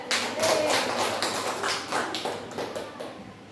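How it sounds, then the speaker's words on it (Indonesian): A small group of teachers at a school gathering gives a brief round of soft, scattered clapping at moderate distance. "Kita kasih aplaus dulu ya"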